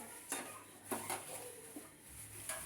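Metal pot covered with a lid while cooking khichuri of rice, lentils, potato, tomato and spices; a few sharp metallic clinks and clanks at close range, spaced irregularly, with no talk.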